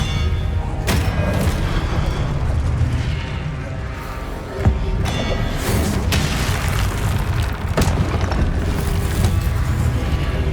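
Expelliarmus spells are cast in Hogwarts Legacy combat amid a dense, loud wash of magical effects, with repeated sharp cracks and booming impacts over several seconds.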